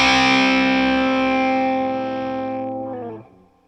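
Guitar played through a Boss TB-1w Tone Bender fuzz pedal on its 12-volt setting: one loud, sustained distorted chord rings out alone and decays, then cuts off near the end.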